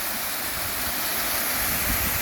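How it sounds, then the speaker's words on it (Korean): Steady broadband rush of a mountain waterfall swollen after rain, high on a cliffside slope near 700 m elevation, continuous and fairly close with no talk. "요 아래가 폭포고 이 위에 폭포가 또 있습니다"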